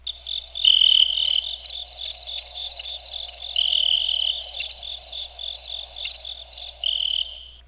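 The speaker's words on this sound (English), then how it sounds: "So the crickets is actually pretty good too." Crickets chirping from an electronic gadget, a steady, high, pulsing trill that swells and fades in waves over a faint low hum, with no voices.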